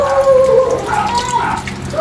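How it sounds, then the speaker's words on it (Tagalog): Half a glass of water poured into a pan holding a large tilapia for ginataang tilapia, a short close splashing pour. "At talagyan natin ng tubig Kaylee. Kunting tubig lang para maluto yung tilapia natin."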